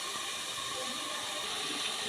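Water drains off freshly cooked rice in a steady, close, continuous rushing hiss with a faint steamy edge and no talk.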